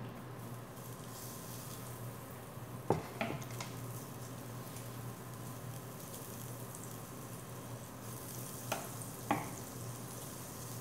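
Butter sizzling in a hot pan for Filipino chicken with tomatoes, a steady soft frying hiss broken by a few sharp crackles and stirring clicks, close and alone without voices.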